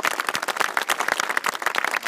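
An audience claps in a burst of applause for two Marine Corps drill instructors at an MCRD recruit event, dense hand claps close by with no voices.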